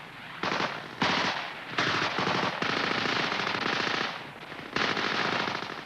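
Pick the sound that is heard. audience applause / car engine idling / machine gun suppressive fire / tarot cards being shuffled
machine gun suppressive fire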